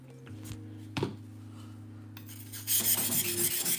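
A cheap knife is rasped against a sharpening surface, with a few scraping strokes over a low hum that build into loud, rapid grinding strokes near the end.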